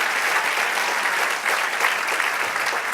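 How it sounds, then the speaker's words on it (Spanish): A church congregation claps for the Lord during a Spanish-language service, a dense, loud, continuous wash of hand claps filling the whole stretch. "Den un aplauso al Señor"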